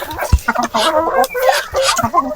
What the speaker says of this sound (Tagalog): mga heritage chicken na mga lalaki